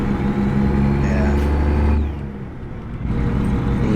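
Heavy truck engine in American Truck Simulator, a loud, steady low drone that drops off briefly as if shifting gears, then builds back up under faint talk.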